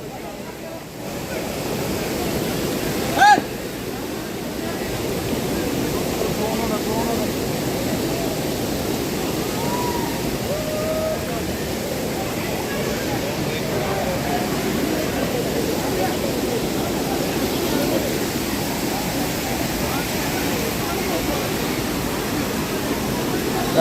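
A stream waterfall at TK Colony, Pookkottumpadam, during heavy monsoon rain, pouring strongly in a steady broadband rush that fills the scene, with one brief sharp knock near the start.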